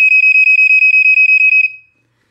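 A Black & Decker SMK6D/M1 smoke alarm sounds its test, a rapid run of about fourteen loud, high, evenly spaced electronic beeps that stop abruptly and then fade out.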